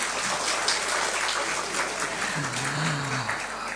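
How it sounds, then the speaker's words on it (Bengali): A university audience claps for a film director and actress, a soft, steady patter of many hands heard from a distance, with a faint low voice briefly rising underneath near the end. "তাদের জন্য একটা হাততালি"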